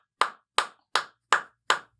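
Five single hand claps, evenly spaced and crisp, close and clean in a quiet podcast studio as a guest is welcomed.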